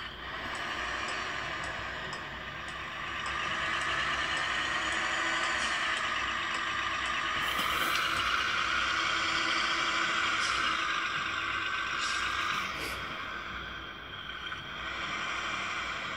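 A truck engine heard from inside the cabin in Grand Truck Simulator gives a continuous, muffled drone with mild swells in load. A few brief hissing bursts sit over the hum, and no one speaks.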